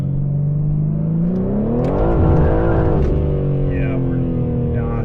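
A stock BMW M3 G80 engine revs and accelerates hard in first gear, its loud, close, rising tone climbing then dropping as the gear tops out.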